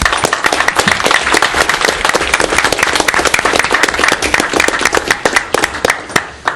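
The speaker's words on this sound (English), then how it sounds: "give you a round of applause." A town council meeting audience claps in sustained, dense applause that stays loud and even for the whole stretch, with no talking over it.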